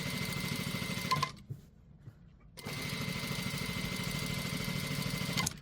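A sewing machine stitches elastic into the waist of a dress with a steady, close mechanical whir, pausing briefly in the middle before running on again at the same even speed.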